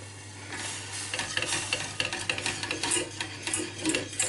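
Milk being stirred into a cheese sauce in a pan on low heat for roasted cauliflower cheese, a close, rhythmic scraping and sloshing of the spoon with faint sizzling underneath.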